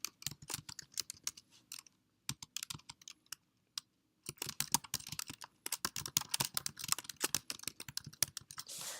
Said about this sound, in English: I'm going to type in that designation and then the parentheses